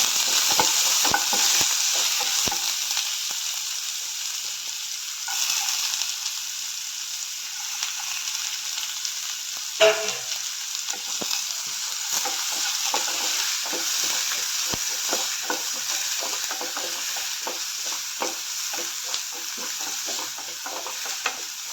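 Sliced onion sizzles steadily in a hot pan with roasted rice, a continuous close frying hiss broken by occasional scraping stirs.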